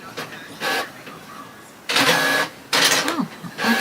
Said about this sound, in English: So let me send it to the other printer.